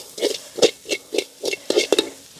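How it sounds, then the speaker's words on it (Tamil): A spoon scrapes rhythmically through a ginger-garlic mixture for egg cutlet, about eight quick, close stirring strokes in a steady beat. "இதில் வந்து நல்ல வடிவாக கலந்து விடுவோம்"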